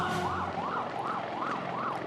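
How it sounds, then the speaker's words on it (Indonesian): A military ambulance siren wails, rising and falling in steady repeated cycles, several sweeps in a row, with constant background noise and no talking, during a submarine casualty evacuation. "Telah datang ambulan dari Diskes Lantama 5"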